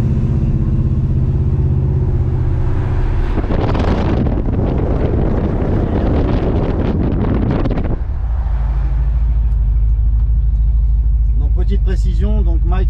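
A 1968 Chevrolet Impala four-door with a 5.7-litre V8 gives a loud, steady low engine rumble while driving, with a stretch of heavy wind buffeting in the middle and a few voiced sounds near the end.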